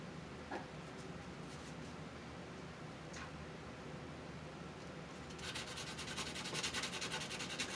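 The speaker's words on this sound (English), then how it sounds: "I'm going to take and sand the bottom of the terminal where the solder is" Sandpaper rubs steadily against the soldered bottom of a fuse terminal for a Pioneer TX-905 tuner, a faint continuous gritty scratching that turns into faster, more rhythmic strokes toward the end.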